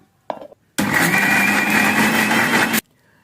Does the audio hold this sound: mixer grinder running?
yes